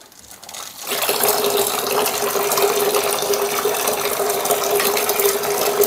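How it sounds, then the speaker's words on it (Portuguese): Water gushes from a tap into a bathroom basin, starting abruptly after a quiet moment and then running as a steady, close hiss with no talking. "E vamos fazer o teste aqui com a torneira, né?"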